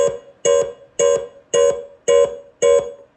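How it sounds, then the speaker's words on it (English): A WMS BB2 slot machine's setup beep repeats six times at an even pace, each a bright, tonal burst of about a quarter second, loud and close with silence between. "that's the beep that says you're almost there."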